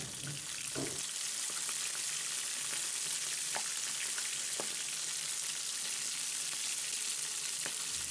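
Lahori-style fish pieces frying in hot oil, a steady close dense sizzle that runs the whole time, with a few faint clinks and light stirring or turning noises over the top and no talking.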